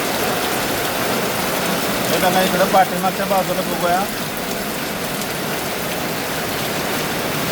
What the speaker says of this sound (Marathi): जोराचा पाऊस चालू आहे